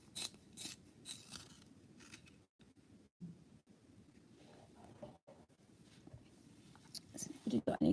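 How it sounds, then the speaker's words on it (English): A graphite pencil is sharpened during a live drawing demonstration, giving a quiet, irregular scraping and grinding with short pauses, while a person talks over it. "So we'll sharpen the pencil."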